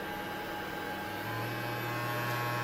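A Dr Pen A7 microneedling pen runs on its low setting, giving a steady close electric hum with a tonal buzz that shifts slightly partway through.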